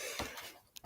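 A single sharp smoker's cough bursts out at the end, close and loud, after a stretch of quiet.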